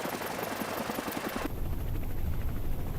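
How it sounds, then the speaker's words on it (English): A Coast Guard helicopter flying back to land off the coast, its rotor chop pulsing rhythmically at close range, then cutting to a steadier, smoother roar of engine and wind. "As the chopper heads back to land"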